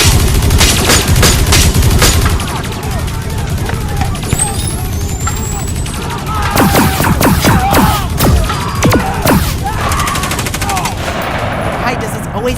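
Rapid, loud bursts of automatic gunfire rattle continuously after a command to open fire, dense and close, with voices audible beneath the shooting.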